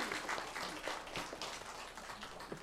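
A congregation claps at a Sunday church worship service after a hymn: a moderately quiet spread of many hands clapping with a few sharper individual claps, no voices.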